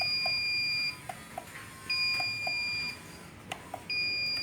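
An engine controller's alarm beeps during a maintenance reset, sounding in repeated steady electronic tones of about a second each, separated by short gaps and small clicks, with no talking.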